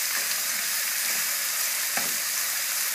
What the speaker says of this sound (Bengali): আবারও 3 থেকে 4 মিনিট ভালোভাবে নাড়তে থাকবেন